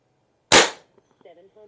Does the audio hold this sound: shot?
yes